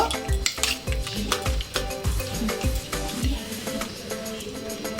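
A spoon stirs chicken Mughlai filling with green chilli, nuts and cooked meat in a pan, giving repeated close clanks and scrapes against the metal over a light sizzle, the clatter thinning out toward the end.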